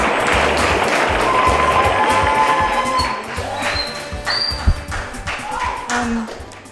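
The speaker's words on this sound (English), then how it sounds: "a round of applause for Miss Delta" Applause from a beauty pageant audience fills the hall, steady and full at first, then thinning toward the end under scattered voices and a few stray sharp sounds.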